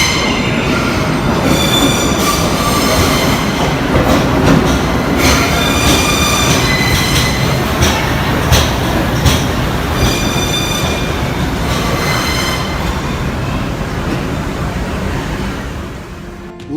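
A US subway train arriving at a station makes a loud, continuous thunderous roar with rattling wheels and repeated metallic squeals and clicks, steady throughout before easing slightly at the end.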